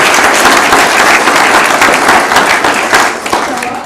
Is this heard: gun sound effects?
no